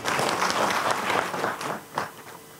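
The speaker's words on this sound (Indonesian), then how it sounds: "tepuk tangan" Audience applause at a government coordination meeting, a steady burst of many hands clapping that thins out toward the end, heard alone without talk.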